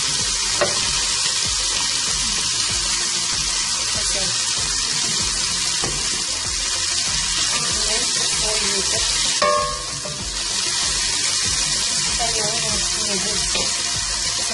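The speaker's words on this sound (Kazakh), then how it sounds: "Қаптап тұралынған пиязымызды қосамыз" Chopped onions frying in a pan and being stirred, a dense continuous sizzle with occasional scraping strokes, loud and close throughout, no voices.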